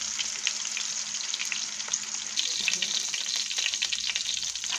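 Thin slices of bread sear in a hot pan, a close, steady sizzle with soft crackles and occasional scraping, no one talking.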